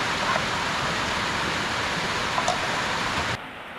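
Heavy rain pours with gusty storm wind, a dense steady roar of water that holds strong before cutting off abruptly near the end.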